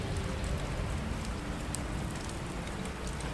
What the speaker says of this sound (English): as rain lashed the windows